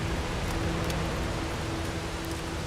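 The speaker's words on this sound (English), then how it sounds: "he got waylaid by the rainstorm" Steady rainstorm in the video game Hobo: Tough Life, a constant broad hiss of rain falling on surfaces, close and even throughout with no talk.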